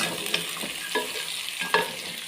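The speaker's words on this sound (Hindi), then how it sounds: "इसलिए हम सब्ज़ी को थोड़ा थोड़ा सा फ्राई कर रहे हैं।" Mixed vegetables, carrot and capsicum, fry in a pan with a constant close sizzle, broken by a few spoon scrapes and stirring knocks.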